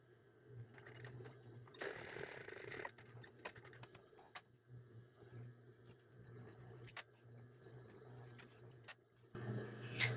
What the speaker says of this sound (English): we're going to stitch again just right along the edge just to keep it nice and flat